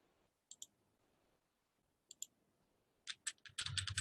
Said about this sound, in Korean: 블록이 지정된 상태에서 키보드의 컨트롤 C를 눌러도 됩니다